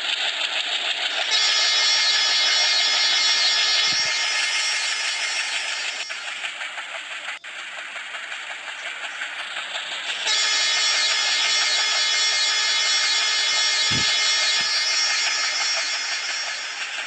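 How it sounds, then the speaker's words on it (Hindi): In the Indian Train Simulator game, a Tripura Sundari Express locomotive sounds a long, loud sustained horn, held for many seconds with a brief break in the middle, over steady rolling rail noise. "चलो एक बार फिर से हॉर्न मारते हैं,"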